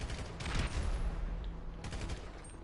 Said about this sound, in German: Ich höre da wieder Explosionen.